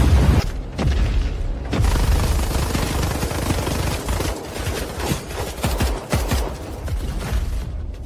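Dense video game gunfire, rapid bursts and booming shots layered over a loud, busy battle mix, continuous and close with no clear pauses.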